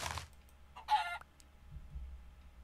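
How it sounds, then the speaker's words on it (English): Short burst of chicken clucking from a video game fowl, a brief loud squawk in the middle of an otherwise quiet stretch with faint low background noise. "I have now found a chicken"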